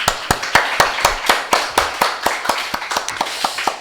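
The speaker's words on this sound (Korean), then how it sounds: "하나님께 영광의 박수를 우리 돌릴까 합니다." A church congregation claps together during a Thanksgiving Sunday worship service, a steady run of sharp, fairly even claps filling the room without any talk over them.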